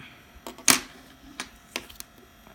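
Scissors snip through a fingernail during nail care, giving one sharp, loud close-up cut followed by a few fainter clicks and snips spread over a quiet background.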